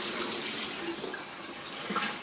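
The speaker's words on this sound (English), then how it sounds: "Make sure that it's rinsed off." Squash rinsed under a running kitchen tap, a steady broadband hiss of flowing water with faint splashing changes as the vegetable is turned, continuous and close for the whole stretch.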